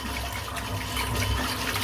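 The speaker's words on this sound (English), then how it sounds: "I'm wasting a lot of water here." Tap water runs steadily at a bathroom sink during a wet shave, a constant close rushing hiss with no other sounds.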